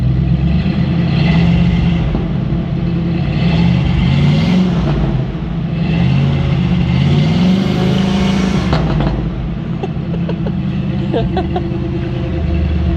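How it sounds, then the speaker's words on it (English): A 1971 Plymouth Valiant's engine rumbles loudly through its exhaust, revving up and down in repeated surges, close by. "rev it up a little bit so you guys can hear this exhaust"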